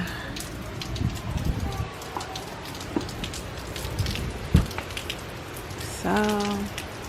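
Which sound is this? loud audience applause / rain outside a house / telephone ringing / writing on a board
rain outside a house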